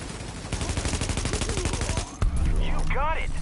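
Rapid automatic gunfire from The Division video game rattles in a fast, loud burst for about two seconds, then a sharp crack is followed by a rising whoosh and a chirping in-game effect.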